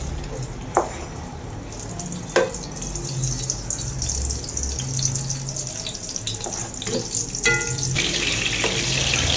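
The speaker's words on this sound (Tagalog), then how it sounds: "igisa na natin ito" Humba meat sautéing in a pan with a little oil, a steady broad hiss with small pops and clicks of stirring running throughout at close range.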